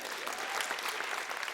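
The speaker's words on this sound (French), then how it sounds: "Ça mérite une bonne main d'applaudissements." Live audience applause, a dense patter of many hands clapping, steady and moderately distant for the whole moment with no voices on top.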